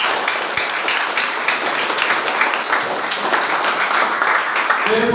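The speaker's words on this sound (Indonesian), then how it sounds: "Oke, tepuk tangan untuk Honda." A hall of vocational school students claps for Honda at an orientation session, with steady, full applause throughout and a voice faintly entering near the end.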